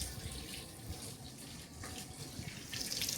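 A washroom water tap runs in a steady, close hiss and splash while teeth are brushed, continuous throughout with slight swells in strength.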